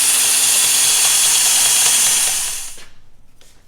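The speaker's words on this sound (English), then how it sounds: "I'm just using one of these single hole style counterbores or countersinks." A power drill spins a single-hole countersink bit into metal, making a loud, steady whining cut that runs for over two seconds and then winds down into quiet.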